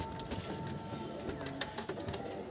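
Pigeons cooing in a loft, soft repeated low coos with light rustling and a few clicks, faint and close, with quiet voices in the background.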